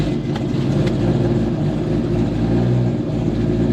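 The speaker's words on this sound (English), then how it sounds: "I have a power steering squeal, or a belt squeal" A 2JZ-swapped BMW E30 idles with a steady low engine drone and a faint thin squeal from the power steering belt running underneath, close and continuous.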